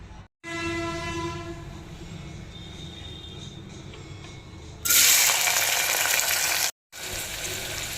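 Onions and green chilies dropped into hot oil, about three to four big spoonfuls, sizzling steadily for goat leg paya, the hiss swelling sharply partway through then cutting out briefly before resuming.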